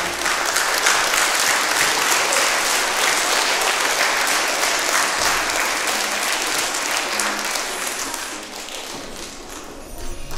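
A crowd claps steadily at a school Christmas carol event, a dense, loud burst of applause that holds for several seconds before thinning toward the end.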